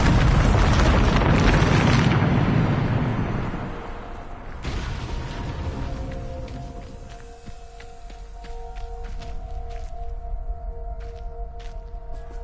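A Bombarda explosion spell in the Hogwarts Legacy video game: a loud, booming blast that fades over a few seconds into a quieter game ambience with lingering tones.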